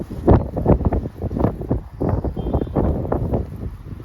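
Gusty wind buffets the microphone in irregular bursts, producing loud low rumbling that rises and falls throughout.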